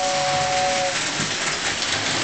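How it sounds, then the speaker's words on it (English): A Lionel 2056 toy steam locomotive's 2046W whistle tender gives a short, steady two-tone whistle over a loud, constant mechanical hum and rumble. "you can hear the whistle"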